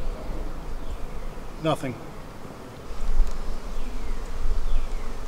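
Honey bees buzz steadily close by while two beehives are combined into one bee barn, a dense insect drone with a brief louder swell partway through.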